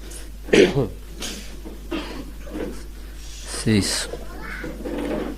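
A preacher whose throat is irritated by cold weather gives a couple of short, sharp coughs spaced a few seconds apart, with speech and breathing between them.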